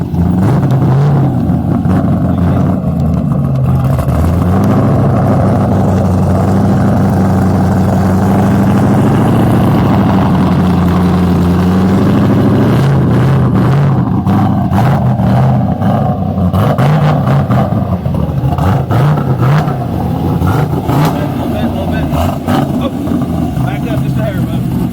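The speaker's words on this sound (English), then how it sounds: "we're gonna get it on the dyno and see what it makes." A Mazda Miata with a swapped LS V8 engine runs on a dyno, loud and close, its deep rumble rising and falling through repeated revs. Voices can be heard over the engine.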